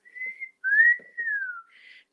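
A person whistles a short special call in three clear, close melodic phrases with brief gaps, the last one softer and breathier, with no talking.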